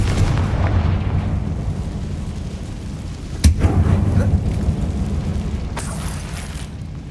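Spell explosion from the Confringo fire spell in Hogwarts Legacy, a single sharp boom near the middle over a steady rumbling game ambience, with a fainter blast trailing near the end.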